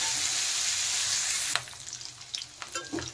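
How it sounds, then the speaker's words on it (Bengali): Potatoes fry lightly in oil in a pan for a fish curry with potato and eggplant: a steady close sizzle, then a sharp clatter as it eases into quieter crackles and scattered knocks. "নেড়ে একটু হালকা ভেজে নিতে হবে"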